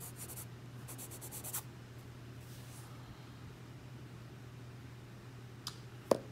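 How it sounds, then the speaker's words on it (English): A pen or pencil scratches out a signature on a paper dinosaur sketch, with quick faint scribbling strokes near the start under a quiet steady hum, then a couple of soft taps. "Guess I'll do a little signature here."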